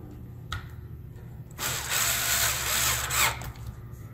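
A cordless drill drives screws into a Dell Inspiron 3583 laptop, giving two loud, whining motor bursts, the longer one near two seconds, over a quiet background with a faint hum.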